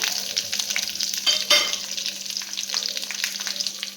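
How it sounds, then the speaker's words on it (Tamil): Onions sizzle and crackle steadily in a hot pan with dal for brinjal kadayal, a close, continuous fry with stirring scrapes and one brief louder burst midway. "ஆனியன் போட்டு ஃப்ரை பண்ணிவிட்டு"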